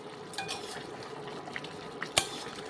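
A metal lid set down on a cooking pot of chicken kosha, a few light clanks and one sharp clink near the end over faint kitchen bustle, close and moderately quiet.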